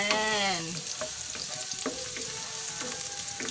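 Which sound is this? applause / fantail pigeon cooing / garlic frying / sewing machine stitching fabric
garlic frying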